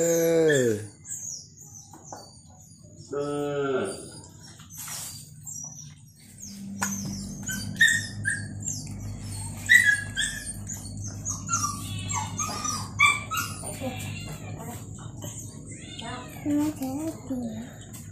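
A dog barks several times in the opening seconds, followed by busy ambience with birds chirping, possible cat meows and people talking throughout.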